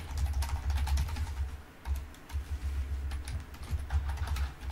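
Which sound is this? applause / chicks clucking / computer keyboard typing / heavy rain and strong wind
computer keyboard typing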